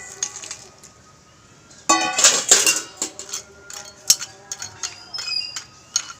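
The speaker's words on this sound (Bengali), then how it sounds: "এবারে ভেজে রাখা বড়িটা দিয়ে দেব।" Fried lentil dumplings (bori) drop into a cooking pot of water for an eggplant dish, with a burst of clinking and knocking against metal followed by a few lighter taps and clatters.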